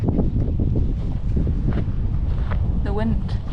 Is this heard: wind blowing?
yes